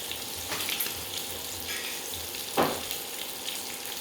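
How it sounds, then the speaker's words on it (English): Curry powder sizzles and fries in a pan for a mussel curry, a steady quiet hiss broken by a few sharp pops and crackles, close by with no voices. "Kind of popping all over the place"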